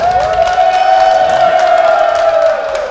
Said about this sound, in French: Bon, maintenant les maris, applaudissez pour vos femmes.